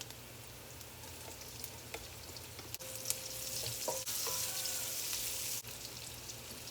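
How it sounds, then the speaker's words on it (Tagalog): Garlic and onions sauté in a pan for chicken igado, giving a steady soft sizzle with occasional stirring scrapes and clinks, close and moderately quiet throughout. "Then saute garlic. Add in the onions."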